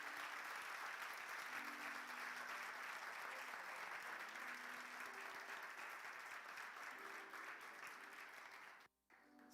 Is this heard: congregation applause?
yes